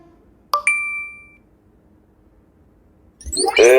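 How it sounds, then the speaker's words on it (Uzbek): A short two-note message notification ding rings out clearly over near silence and fades over about a second. A voice starts speaking shortly afterward. "Sizga xabar keldi"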